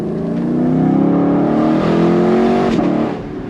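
A 2024 Lexus LC500 Bespoke Edition convertible's V8 gives a steady, close, low rumble that swells and eases slightly over a few seconds, with no talk over it.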